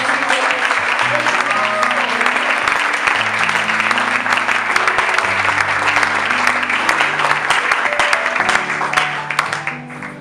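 A talk show studio audience applauds a newly introduced guest with loud, steady clapping for about ten seconds, while faint musical tones sound underneath.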